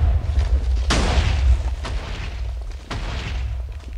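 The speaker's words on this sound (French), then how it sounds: "Et ensuite, j'ai fait canon à TNT." A TNT cannon in the Minecraft video game goes off in three deep booming explosions about a second apart, loud and rumbling, each fading into the next, with no talking.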